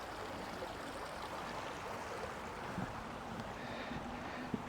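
A small creek running after record rainfall makes a steady, broad rush of flowing water, even and unbroken, heard alone outdoors.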